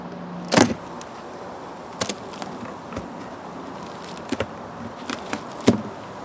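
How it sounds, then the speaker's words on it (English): Honey bees buzz around an opened beehive, a low steady hum with several louder buzzes as individual bees fly close past, some near and some farther off. "That's a pretty good population of bees up top there."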